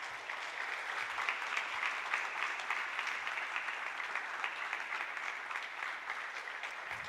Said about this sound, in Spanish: Y levante una ofrenda de palmas al Señor.